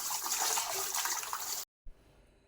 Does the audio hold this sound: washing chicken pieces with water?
yes